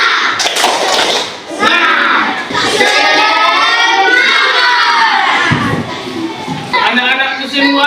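A group of children shout and chant together loudly with bursts of rhythmic clapping, close by in a lively room.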